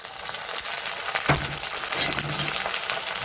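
Ginger garlic paste fries with browned onions in a pan, giving a soft, steady sizzle with a couple of brief stirring scrapes and clinks, close and fairly quiet.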